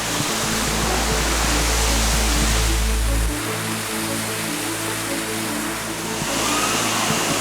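A waterfall in Springbrook National Park, Australia, roars steadily as a dense, broad rush of falling water, with a low rumble fading partway through.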